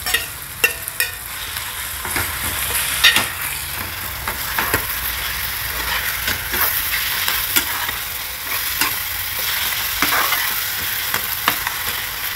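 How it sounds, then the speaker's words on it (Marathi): Roasted mashed eggplant for bharit being stir-fried in a pan, a soft continuous sizzle under repeated scraping strokes of a spoon against the pan. "चांगलं परतून घ्यायचंय"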